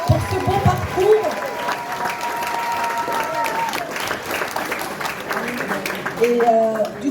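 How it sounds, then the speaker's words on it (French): Audience applause at a workers' medal ceremony, dense clapping that carries steadily for several seconds with voices talking over it, swelling again near the end. "on l'applaudit très fort pour ce beau parcours"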